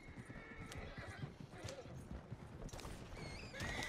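A horse pulling a wagon in a video game clops its hooves in a steady rhythm and lets out whinnies, with clattering and creaking game sounds throughout and a faint voice underneath.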